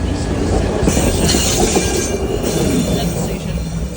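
A SEPTA commuter train rolls loudly through a small single-track station, steady rumble with wheel squeal and rail clatter throughout, close by and continuous.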